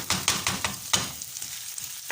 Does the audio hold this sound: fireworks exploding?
no